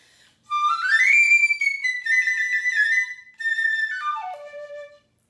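Very high, piercing piccolo notes played in a short melodic run, sliding up, holding, then stepping down to a final note, solo and close.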